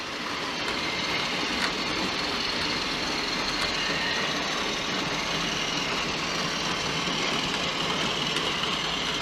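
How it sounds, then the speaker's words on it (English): A model railway Class 33 locomotive circles the layout with an engineer's train, producing a faint, continuous mechanical hum and rolling rumble that holds steady throughout, with no voices. "So 33's coming around now with the engineer's train."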